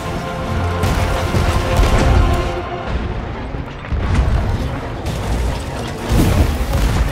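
Ship cannons in the Sea of Thieves game fire over and over as heavy, rumbling booms, loud and close, in a continuous barrage that blends into a steady roar with no pause.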